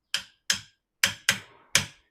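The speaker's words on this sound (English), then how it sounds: "put a wrench here, use a hammer." Hammer striking a wrench fitted on a bicycle crank arm: five sharp metallic blows with an uneven rhythm, close and crisp, each decaying quickly into silence, with no talking.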